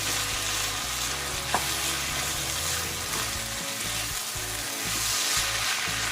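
Ground beef giniling with potatoes and carrots sizzles steadily in a pan while a utensil stirs and scrapes through it, with a brief sharp clink partway through; the frying stays loud and close the whole time, with no talking.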